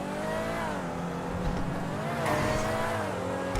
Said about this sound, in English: this is one of the best sounding supercars in the game, by the way